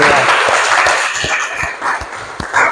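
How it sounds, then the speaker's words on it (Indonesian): In an Indonesian Islamic education classroom, students give a discussion group a round of clapping: brisk, fairly loud applause from a small group that gradually thins out, with some voices mixed in. "Kita kasih tepuk tangan dulu untuk kelompok"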